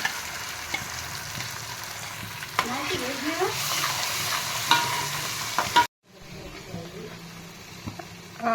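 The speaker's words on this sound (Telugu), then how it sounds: "ఆయిల్లో ఆనియన్ పేస్ట్, ముందుగా తయారు చేసుకున్న మసాలా వేసుకొని వేయించుకోవాలి." Onion paste and ready-made masala fry in hot oil with a steady sizzle and stirring scrapes, fairly quiet and close. A sudden cut near the end drops the sound, then the softer sizzle resumes, and a voice speaks over parts of it.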